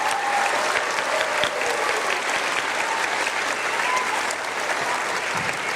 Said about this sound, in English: can we have one more round of applause for our Prelude Orchestra musicians tonight